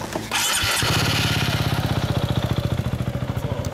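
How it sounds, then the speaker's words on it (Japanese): A motorcycle engine fires up and revs close by, settling into a loud, rapid, pulsing idle with no talking. "エンジン音聞かして"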